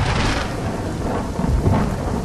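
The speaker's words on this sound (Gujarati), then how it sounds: "અમદાવાદમાં ફરી એક વખત વરસાદનું આગમન થયું છે" Thunderstorm with heavy rain over Ahmedabad: a dense, continuous roar of downpour with deep rolling thunder underneath, loud and close throughout, no voices.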